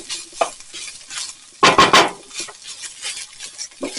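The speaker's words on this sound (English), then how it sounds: "Keep moving that around for a few minutes so it's all mixed in well with all the meat." Ground beef with tomato paste is stirred in a pan, with scraping and clinking of a utensil against the pan over a faint sizzle and a brief louder burst of stirring partway through.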